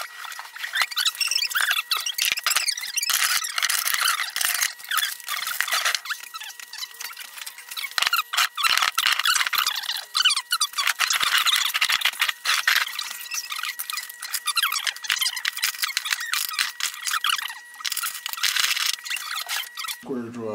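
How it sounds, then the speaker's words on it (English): A squeaky drawer in a workshop storage cabinet for staple hardware is pulled open, giving repeated high squeals and squeaks over about twenty seconds, close and fairly loud, with occasional talk and handling clatter in between. "Okay, so then we got this drawer."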